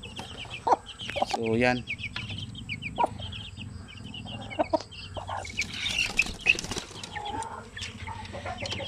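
A mother hen on a farm with chicks clucks repeatedly and flaps her wings in a short flurry, close to the microphone, while a person talks intermittently nearby.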